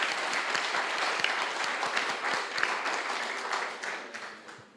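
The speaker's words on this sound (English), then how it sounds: "Big applause." An audience in a hall at a team hackathon event breaks into dense, sustained applause that fades out toward the end.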